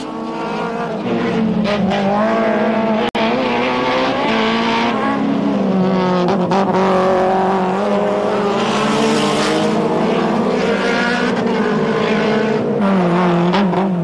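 Rallycross race cars on a 1100-metre, mostly dirt track, engines roaring loud and continuous with rising and falling revs as the pack gets away, a dense blend of several cars close by.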